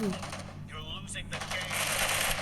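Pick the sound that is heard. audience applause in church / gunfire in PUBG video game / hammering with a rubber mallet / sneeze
gunfire in PUBG video game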